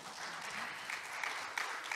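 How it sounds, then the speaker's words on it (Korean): Faint, fairly distant applause from the audience at a Korean peace conference roundtable, a soft, steady patter of clapping lasting about two seconds. "여러분 큰 박수 부탁드리겠습니다"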